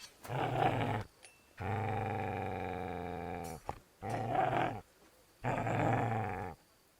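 A dog in Kingdom Come: Deliverance II gives four deep, drawn-out growls separated by short silences, close and steady, with no speech over them.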